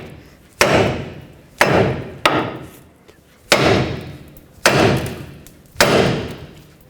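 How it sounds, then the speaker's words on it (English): A hammer strikes the steering knuckle of a 1997-2003 Ford F-150 front suspension to knock the lower ball joint loose: six heavy, ringing metallic blows spaced about a second apart, each decaying briefly, with no talk. "we're going to use a hammer right here on the knuckle, and that's going to pop the ball joint free off of the knuckle"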